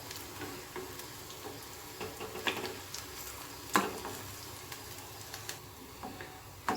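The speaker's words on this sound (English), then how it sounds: "On low flame only we have to fry this kofta." Soya chunk and cabbage kofta frying in oil over a low flame, a soft steady sizzle with scattered small pops and crackles, close and fairly quiet, no talking.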